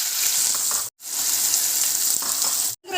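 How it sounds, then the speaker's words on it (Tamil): Onions and green chillies sizzle loudly in hot oil, a dense crackling hiss broken by two brief silent cuts. "இப்போ வந்து நம்ம நறுக்கி வச்சுருக்கிற வெங்காயம் பச்சை மிளகாய் முதல்ல போட்டு வதக்கிக்கலாம்."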